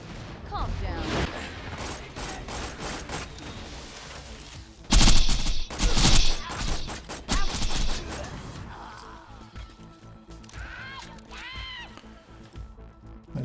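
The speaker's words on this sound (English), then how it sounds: "That Sandhawk was firing pretty fast there." Rapid gunfire from the Sandhawk in the Borderlands video game, a dense burst of fast shots peaking in the middle amid busy game effects, with a voice talking at times.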